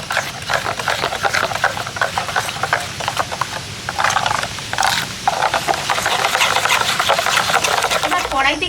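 A kitchen mixer grinder blending pakora batter with a little water in its jar, giving a loud, continuous whirring motor drone throughout.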